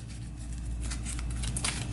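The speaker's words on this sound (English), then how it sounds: "We'll give this one more shuffle." Tarot cards are being shuffled, giving a close, continuous papery riffling patter with a few sharper flicks toward the end, heard alone.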